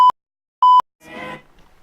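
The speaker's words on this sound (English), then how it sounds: "This is gonna be bleeped for the documentary," Two short, loud electronic censor beeps at a steady pitch, the second slightly longer, each alone against silence, followed by a brief burst of muffled voices.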